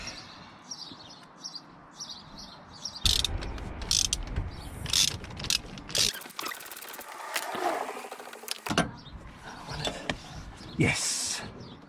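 Ratchet clicking as a bolt is loosened on an MG TF sports car in a home garage, with bursts of rapid pawl clicks and metallic clanks close up, broken by short pauses.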